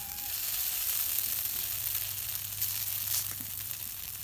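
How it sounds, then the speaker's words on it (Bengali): Noodles with egg fry in a hot pan in a home kitchen, giving a loud, constant sizzle with a brief stirring scrape just past the midpoint. "ডিম দিয়ে নুডলস রান্না হচ্ছে দেখেন"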